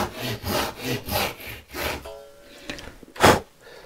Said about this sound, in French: Je la laisse poser, elle travaille toute seule.